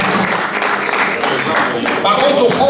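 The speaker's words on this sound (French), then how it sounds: "On peut l'applaudir, Cassandra." Audience clapping for a young female fighter at a Picardie UFOLEP championship event in Pasly, Aisne, a steady dense applause lasting throughout, with voices mixed in.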